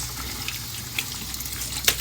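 Water runs steadily from a tap while plant pots are rinsed out, a continuous close splashing flow with a few small knocks and clatters near the end.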